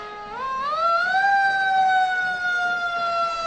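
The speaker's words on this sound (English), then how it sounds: "And you're going to be hearing the sirens." A fire truck siren at a Veterans Day parade in Savannah rises in pitch and then holds a loud, steady wail, close by and sounding alone.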